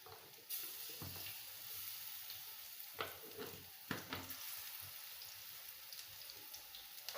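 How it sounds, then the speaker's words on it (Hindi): Pakoras for kadhi fry in oil over a low flame, a soft continuous sizzle and bubbling that starts suddenly, with a few sharper pops and stirring knocks, quiet and close with no talk. "पकोड़े लो फ्लेम पर ही फ्राई करना है"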